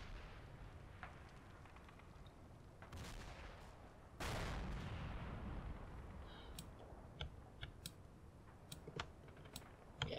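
Mortar shells exploding in the Combat Mission Final Blitzkrieg video game: a couple of dull, distant booms followed by a rumbling low backdrop and scattered faint cracks and clicks.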